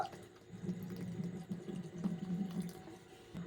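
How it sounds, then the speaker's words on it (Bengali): Water runs steadily into a bowl of grated coconut, a continuous splashing pour at moderate level with no break. "এরপর জল পরিমাণ অনুযায়ী জলটা দিয়ে দেব"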